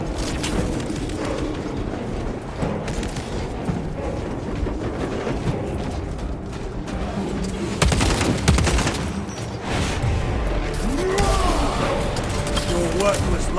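Dense, continuous gunfire rattles through a battle in the video game Space Marine 2, sustained volleys layered with heavy impacts and mechanical clatter, while voices speak over the din.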